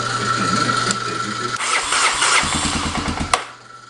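A choked 1985 Honda 250SX motorcycle in neutral cranks briefly and then catches, settling into a loud, close, steady running engine that drops away near the end.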